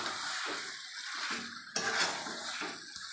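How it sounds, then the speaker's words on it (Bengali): Meat being stirred in a pan for a Bengali cauliflower curry, a soft continuous scraping and sizzling with a sharper clatter midway, close but fairly quiet, no talk. "মাংসটাকে নাড়া হয়ে গেছে"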